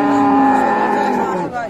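A Friesian dairy cow, six-tooth age with a calf, lets out one long, loud, close moo at a busy village cattle market in Dinajpur, Bangladesh.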